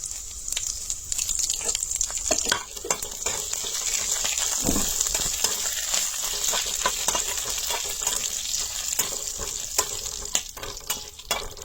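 Whole spices, three bay leaves and dried curry leaves sizzle steadily in hot oil, a loud continuous hissing crackle with frequent sharp pops, close and unbroken with no talking.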